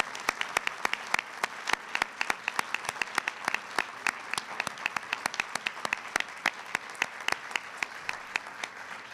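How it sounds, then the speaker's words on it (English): Applause from an audience at a school bill-signing event, dense clapping with sharp individual claps standing out, moderately distant and steady throughout with no talk. "Give them all a big round of applause."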